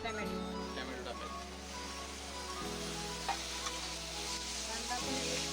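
Onion and tomato sizzling in a pan with oil as they are stirred for a Konkani-style wet cashew vegetable, a steady frying hiss with scraping stirs, while a low hum runs underneath the whole time.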